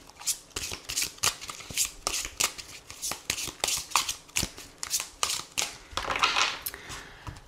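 Tarot cards being shuffled by hand in a steady series of crisp riffling snaps and papery slaps, close and fairly loud, with no talking.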